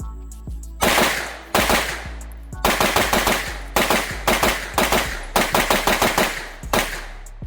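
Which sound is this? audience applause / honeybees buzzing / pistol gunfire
pistol gunfire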